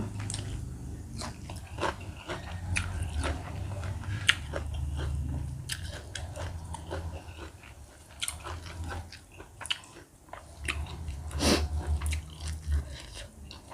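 Someone eats koi goong, spicy Thai raw shrimp salad, close to the mic, with wet bites, crunching and steady chewing under a faint background hum.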